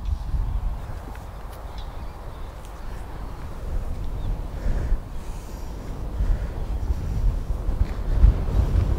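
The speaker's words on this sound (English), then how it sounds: "Oh, it's so windy I can hardly stand up." Strong wind buffeting the microphone in gusts, a rumbling low roar that swells and surges throughout.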